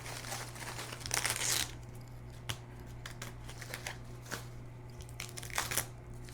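Wash-away embroidery stabilizer being torn away from a machine-embroidered appliqué design, heard as close, brief crinkly rips and crackles in a few short bursts over a steady low hum.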